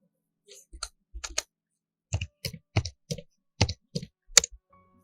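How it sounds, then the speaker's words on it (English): Keystrokes on a computer keyboard while entering a bulleted list in a word processor, with short bursts of clicky taps separated by pauses, close and fairly quiet, with no talking. "So let's start typing something."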